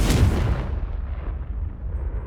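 Confringo fire spell from Hogwarts Legacy bursting in an explosion: one loud, deep blast at the start that rolls off into a fading rumble, with no voices.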